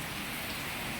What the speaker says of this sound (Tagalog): medyo humupa na ang ulan